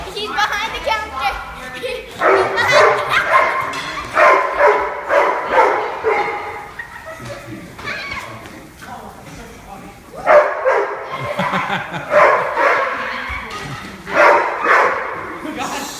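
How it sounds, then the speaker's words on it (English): A Great Dane or Leonberger dog barks repeatedly in quick bursts, loud and close, with short pauses between volleys and brief whining sounds. "Quit barking."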